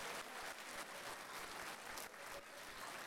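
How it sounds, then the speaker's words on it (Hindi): A mushaira audience in Doha, Qatar claps steadily for a few seconds, a dense, even patter of applause with no voices standing out. "एक बार थोड़ी सी तालियां मेरे लिए बजाइए।"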